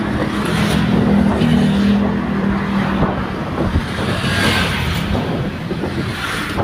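Steady road traffic on a bridge over the Davao River rumbles continuously nearby, with engines droning and vehicles passing as a dense, unbroken wash of noise.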